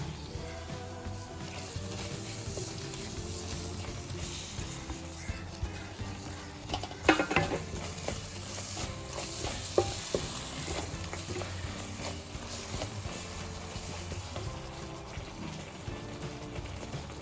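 Grated coconut being stirred into melted jaggery in a pan, a steady soft scraping and sizzle throughout, with a couple of sharper clinks partway, and no voices.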